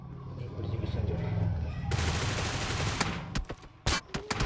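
Gunfire in the game BGMI starts with a sudden dense burst of shots that runs on for a while, followed by a few separate loud cracks. Before the shooting, engine-like hum and game noise fill the background.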